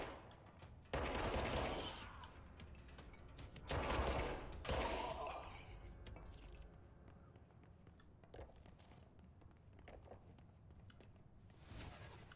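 Bursts of gunfire from the video game Control, two loud volleys of rapid shots with scattered single cracks and quieter mechanical clatter between them, with a faint voice underneath.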